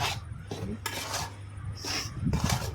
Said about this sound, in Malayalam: അമൃതപ്പൊടി നമുക്കൊന്ന് ചെറിയ ചൂടിലൊന്ന് ചൂടാക്കി എടുക്കണം